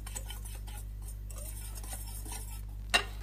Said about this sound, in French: On incorpore bien les épices dans la maïzena ou farine